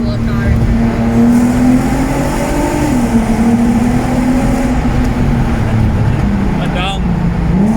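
A VW Golf R32 Mk5 with its VR6 engine pulls hard in second gear through a tunnel, a loud close engine drone rising and dipping in pitch as it accelerates, echoing around the car.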